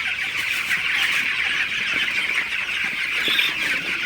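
A large flock of 16-day-old broiler chickens clucks and squawks continuously in a dense, steady chorus with no pauses.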